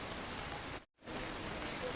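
Heavy rain pouring in a mountain area, a dense steady hiss that drops out briefly in the middle before returning just as strong, close and continuous with no other sounds.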